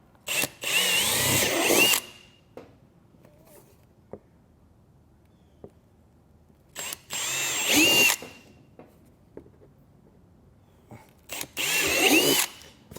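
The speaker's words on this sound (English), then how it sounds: "what I'm going to do is take a drill bit" A power drill with a bit drills out the corners of an underbody panel on a 2021 Jeep Wrangler, in three loud, close bursts of whining grind, each about one to two seconds long, with quiet pauses and small knocks between them.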